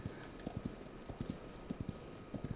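A horse mount in the Paladins video game clip-clops along in an irregular run of hoof strikes over a steady game background, with no speech.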